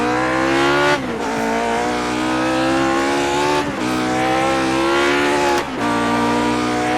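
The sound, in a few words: Lotus 49 engine at full throttle in iRacing video game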